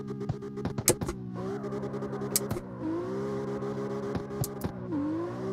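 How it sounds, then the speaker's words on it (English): A car engine in a racing video game drones steadily with its revs audibly dipping several times, the pitch sliding down and recovering, with a few sharp clicks scattered on top and no voices. "You can literally hear the car, like, downshift."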